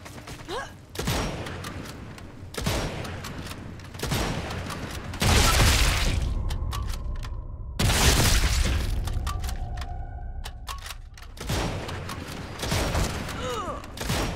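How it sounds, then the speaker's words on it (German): Heavy gunfire and explosive blasts in the WWII shooter Sniper Elite 5, arriving as repeated loud bursts of several seconds each with ringing, echoing tails and brief quieter gaps between them. "Jetzt hat er richtig geschossen."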